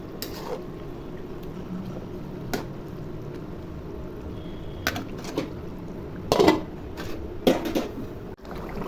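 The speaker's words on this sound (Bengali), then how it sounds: "এখন নেড়ে চেড়ে ঢেকে রাখবো।" A pot of fish curry with potato and pointed gourd is stirred and covered, giving scattered metallic clanks and scrapes of utensil and lid against the pot over a quiet simmer.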